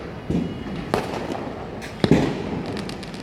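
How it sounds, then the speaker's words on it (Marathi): Several Diwali firecrackers pop at uneven intervals, sharp bangs with brief crackling tails against a quiet background, heard from a terrace. "फटाक्यांचा आवाज पण सगळीकडून येत आहे भरपूर फटाके वाजवले जात आहेत"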